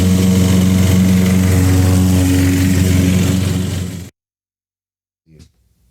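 A Toro 22-inch Personal Pace lawn mower engine runs with a steady, loud buzzing drone for about four seconds, then cuts out to silence before a short faint noise.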